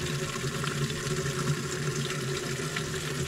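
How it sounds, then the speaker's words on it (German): Spring water pours steadily into a bottle outdoors, a continuous close splashing and gurgling rush with no talk over it. "Dann habe ich hier die Flasche voll gemacht."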